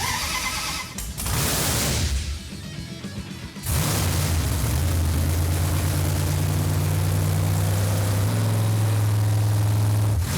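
A 923-horsepower Hemi engine in a 1964 Dodge A100 cranks over, then settles into a loud, steady low rumble. It runs continuously for several seconds, close and dominant.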